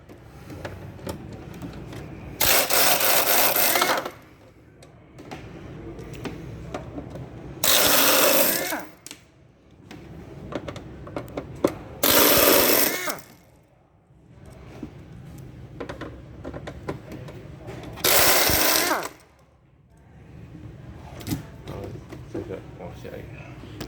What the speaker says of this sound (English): you remove the store box, and then another 4 screw to release